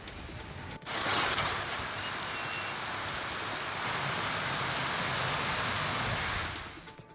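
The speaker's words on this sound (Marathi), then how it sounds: "कोकण घाटमाथ्यावर जोरदार पाऊस सुरू आहे" Heavy monsoon rain in the Konkan ghats, Maharashtra, pours down in a loud, dense roar that swells in after a quiet start and holds steady before tapering off.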